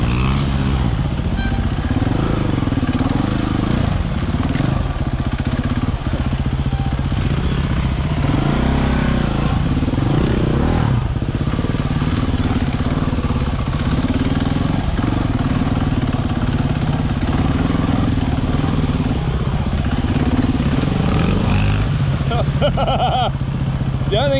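An enduro motorcycle crawls along at slow speed on slippery mud while the rider feathers the clutch. Its engine drones loudly and continuously, the revs rising and dipping in uneven surges.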